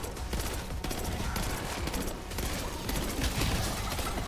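Rapid bursts of gunfire from a small weapon in Black Ops 6 Zombies, dense and continuous crackling shots at steady loudness with little pause, no talk over them.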